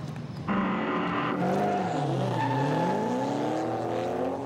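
Drift cars at a Formula Drift event in Houston, including a Ford Mustang and a Nissan S15, scream through a chicane with loud sustained tire squeal rising and bending in pitch over roaring engines, continuous and close.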